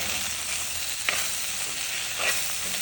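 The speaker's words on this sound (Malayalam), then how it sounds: "ഇതിൻ്റെ മൂടിന് തുറന്ന് കൊടുത്തിട്ട് നല്ലപോലെ ഇളക്കി കൊടുക്കണം" Ivy gourd stir-fry being stirred in a pan after the lid comes off, a continuous sizzle with a couple of brief scraping knocks from the spoon against the pan.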